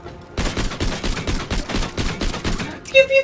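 Rapid burst of wacky energy-pistol fire in Borderlands 2, a dense string of loud repeated shots lasting about two and a half seconds, followed by a brief electronic chime-like tone.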